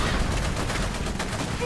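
Dense, continuous rattle of machine gun fire from the video game Iron Harvest, loud and unbroken, with overlapping shots filling the whole moment.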